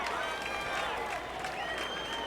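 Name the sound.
crowd cheering at lacrosse state championship game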